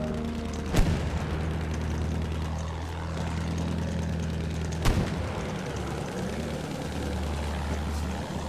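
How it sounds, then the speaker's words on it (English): An airplane passes overhead in a video game, a steady low droning hum that holds throughout, broken by two sharp, loud booms of gunfire or explosions about four seconds apart. "Vorsicht, Flugzeug!"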